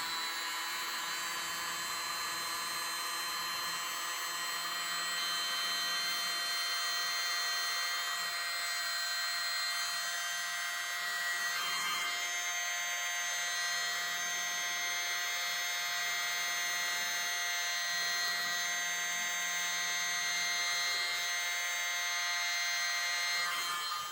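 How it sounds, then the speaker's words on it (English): A mini blower hisses steadily and continuously at close range with a high whining tone as it spreads an acrylic paint pour, with no pauses and no talk. "Use my mini blower."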